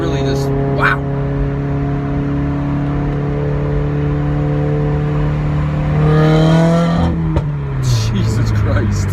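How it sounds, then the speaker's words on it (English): A straight-piped 2015 Subaru WRX engine drones loudly and close, holding a steady rumbling tone before surging higher as the throttle opens, then dropping back. "So loud when I floor it."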